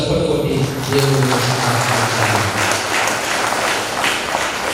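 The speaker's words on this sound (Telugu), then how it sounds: "ఒకసారి గట్టిగా చప్పట్లు కొట్టి" Clapping from a congregation at a priestly ordination in Proddatur, spreading through the church with voices and tones mixed in, steady and fairly loud throughout.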